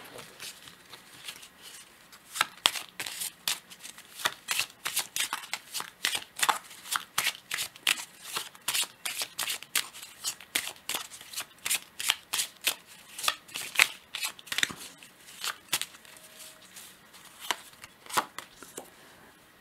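Tarot cards are shuffled by hand in a steady stream of quick, crisp riffling snaps and taps, close and fairly quiet, continuing throughout with no talk.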